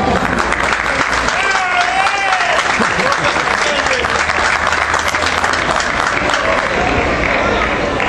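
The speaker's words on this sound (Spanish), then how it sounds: "Solicito también un voto de aplauso." A school anniversary fundraiser audience gives loud, dense applause that continues steadily for several seconds, with whistles and shouts rising over the clapping.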